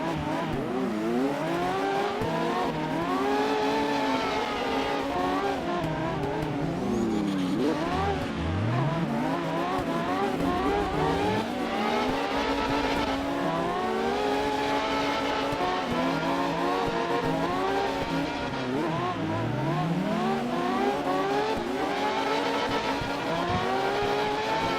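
The Ronin GT drifting in CarX Drift Racing, its engine revving continuously with rising and falling pitch through gear changes, loud and close, with tire squeal throughout.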